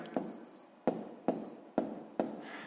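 Pen or pencil handwriting numbers on paper while setting up a column multiplication problem: five distinct scratchy strokes at a steady, unhurried pace, close and fairly quiet, with nothing else audible.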